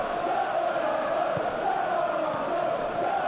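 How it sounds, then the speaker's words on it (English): Steady stadium crowd murmur and roar from a PES 21 football match, Arsenal against Bayern Munich in a Champions League quarter-final, a continuous, fairly loud wash of noise with no distinct chants. "Crowd appreciates good football all round there."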